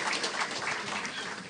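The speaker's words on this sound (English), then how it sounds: "Please give him a round of applause." Steady audience applause at a regional awards ceremony, a dense even patter of many hands clapping throughout, fairly distant and sustained with no talk over it.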